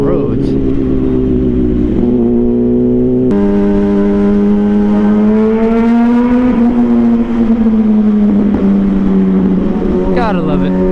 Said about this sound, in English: whenever you go through a tunnel, you gotta rev on or make sure everyone hears you